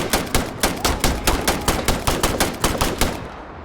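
Loud, rapid automatic gunfire from the video game Starfield, a steady burst of about a dozen sharp evenly spaced shots over a few seconds, heard alone.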